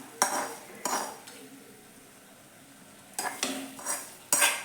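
Roasted coconut is added to Kerala kootucurry in a pan, with a few distinct clanks of a metal spoon against the pan in two clusters and a quiet pause between them.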